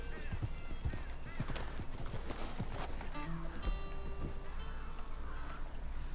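Horse hooves clip-clop steadily over ambient outdoor sound in Red Dead Redemption 2, a continuous rhythmic trot heard under someone talking.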